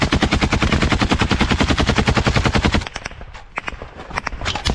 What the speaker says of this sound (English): He keeps laying down suppressive fire toward the Russian side without pause.